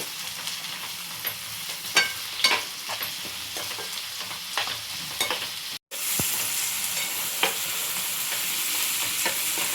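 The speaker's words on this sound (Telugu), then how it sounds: "ఇప్పుడు దీంట్లోకి మనం నెక్స్ట్ టమాటా యాడ్ చేసుకుందాం. దీన్ని కూడా ఒకసారి కలుపుకుందాం." Onion and tomato frying in a pan for egg bhurji, with a steady close sizzle under repeated scraping stirs of a spatula, no voices.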